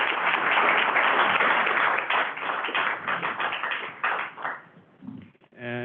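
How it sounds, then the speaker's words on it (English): Sustained applause from a workshop audience for a fisheries panel, a dense wash of many hands clapping that thins and fades near the end, followed by a brief voice. "let's give another round of applause to the panel"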